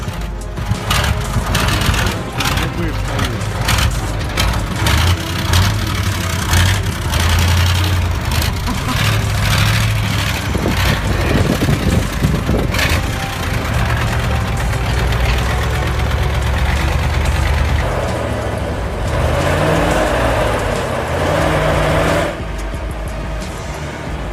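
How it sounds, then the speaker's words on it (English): A truck engine revs hard while the clutch is not fully released, a loud, steady mechanical roar with rising and falling pitch that runs throughout, with some knocking texture and a drop in intensity near the end. "he took too big a risk by revving the engine without fully releasing the clutch"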